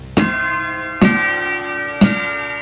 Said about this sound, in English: And some bells over here.